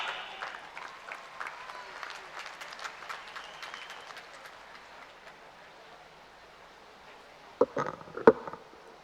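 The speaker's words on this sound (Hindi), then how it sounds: "जोरदार तालियां" An audience applauds at an award ceremony in Lucknow honouring Tokyo Olympians, a broad clatter of many hands that gradually fades out, followed by quiet and a few brief knocks and bumps at the end.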